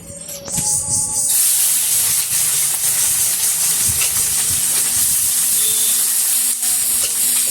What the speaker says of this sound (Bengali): এই যে ছোট মাছ পেঁয়াজ কাঁচা মরিচটা ভাজা হয়ে গেছে